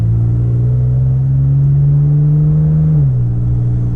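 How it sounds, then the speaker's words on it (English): A Toyota Tacoma pickup's transmission shifts itself in sport mode while driving. A loud, steady engine drone holds its pitch and then drops clearly at the shift near the end, with no talking. "you could hear the car shifting. The truck rather."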